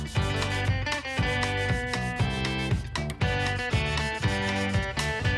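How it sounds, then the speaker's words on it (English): A wooden guitar is hand sanded with a foam block along the grain, giving steady back-and-forth rubbing strokes about twice a second, up close, over background music. "I'm gonna use the foam block on all of the flat areas, sanding with the grain, being careful not to round over any edges."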